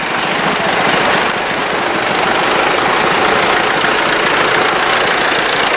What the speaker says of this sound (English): Got the Perkins. I believe that'll be around 3 litre diesel.